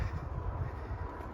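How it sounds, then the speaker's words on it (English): Constant low rumble of traffic from a major road junction near a nature preserve, a dull roar, distant and steady, no voices. "the cars racing in the background"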